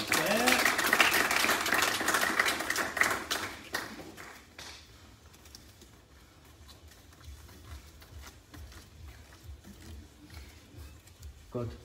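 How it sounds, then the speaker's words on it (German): Applause at a martial arts dan grading exam: a burst of scattered clapping from a small group fades after a few seconds into quiet room noise, with voices talking faintly in the background. "Die kriegen Applaus."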